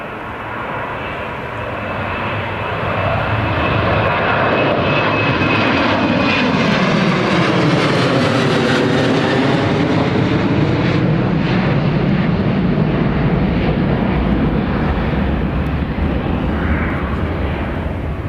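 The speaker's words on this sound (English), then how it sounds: "that's the TUI Airways just departed there as well" A TUI Airways Boeing 737-800 departs an airport with a loud jet roar that swells as it passes and then holds, with a sweeping rise and fall in pitch, and no one speaks over it.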